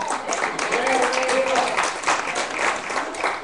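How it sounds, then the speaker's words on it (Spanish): Church congregation gives a short round of applause, a dense, moderately loud patter of clapping lasting a few seconds with voices mixed in underneath. "Denle un aplauso a la mujer."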